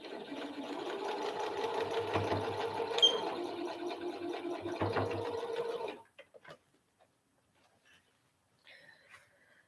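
A sewing machine stitches fabric in a steady mechanical whir for about six seconds, then stops, leaving a few faint clicks and light handling noises.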